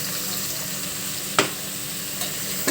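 Spice powders, sambar powder, chilli and coriander, go into a sizzling pot of sambar, a steady close frying hiss with a few sharp clinks from a spoon or bowl against the pot.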